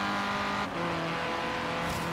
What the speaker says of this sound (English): That's one thing I love, the car sounds.